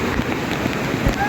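Heavy downpour in Junagadh makes a brief, dense, steady hiss of rain striking surfaces, loud and close.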